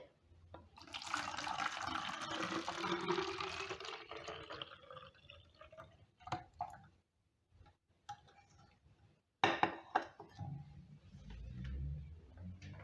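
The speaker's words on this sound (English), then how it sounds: "Pour hot water into the bottle." Hot water pours steadily into a plastic bottle for several seconds, a rushing, filling sound that tapers off, followed by a few clunks and handling noises.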